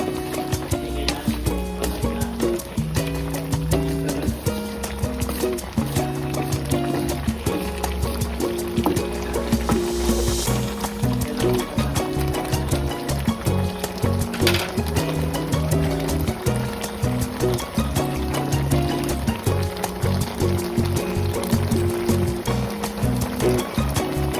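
Chicken feet and gizzards simmer in adobo broth, a continuous bubbling boil heard close and steady over a background of music.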